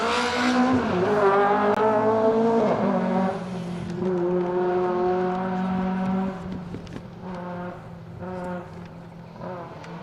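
Rally car powering through the bends near an old hairpin on a stage, engine note rising and falling through gear changes at middle distance, loud and sustained with a fading pass toward the end.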